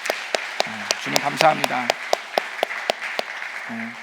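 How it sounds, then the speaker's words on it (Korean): A church congregation at a Holy Week evening revival service claps in a steady, regular rhythm. The sharp claps keep going while someone speaks over them in Korean. "이 시간 우리 박수로 한번 영광 돌렸으면 좋겠습니다."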